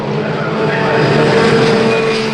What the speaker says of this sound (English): There's a whole host of Formula Ford cars jostling for position heading into the left-hander.